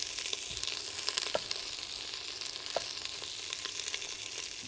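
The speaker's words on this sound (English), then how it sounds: "And in goes my fennel. Oh boy, I love that sound." Fennel sizzles steadily in a hot pan, a soft continuous crackle with a few sharper pops, fairly quiet and heard alone with no talking.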